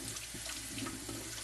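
Water runs and trickles steadily from cooked pasta sitting in a small strainer as it is shifted around to drain, a soft continuous rush close by with no talking.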